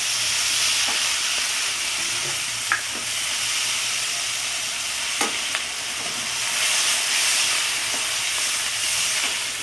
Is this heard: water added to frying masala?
yes